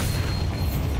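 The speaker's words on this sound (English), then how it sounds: "A red barrel with Bombarda." A red barrel blows apart under a Bombarda spell in Hogwarts Legacy, a deep booming blast with rumbling low end that fills the brief moment alone.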